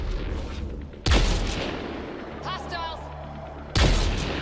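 Gunfire bursts from a firefight in the video game Mass Effect Andromeda, set in a blizzard: two sharp loud shots roughly three seconds apart over steady wind noise, with a voice talking in between.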